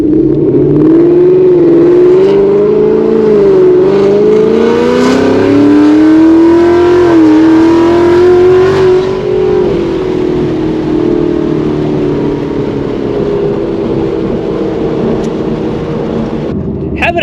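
A Ford S550 Mustang with a 10-speed automatic accelerates close by, its loud engine note climbing and dipping through gear changes, then settling into a steady, less intense drone.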